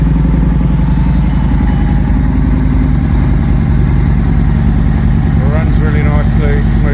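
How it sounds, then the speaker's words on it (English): A Victory Jackpot motorcycle with stage 1 Bow X exhausts idles loudly and close, a deep, steady, throaty rumble that continues throughout while someone talks over it. "Runs really nicely, smoothly. Nice deep throaty sound."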